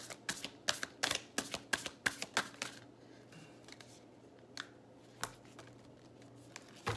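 A deck of cards shuffled for a card reading, with a quick run of crisp riffling snaps, then slower scattered flicks as the cards settle, close and alone.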